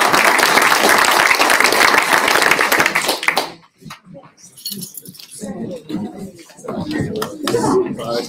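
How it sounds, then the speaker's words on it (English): An audience claps in a dense, loud round of applause for about three seconds, then it stops abruptly and a voice speaks over scattered noise. "Please join us for a nice round of applause."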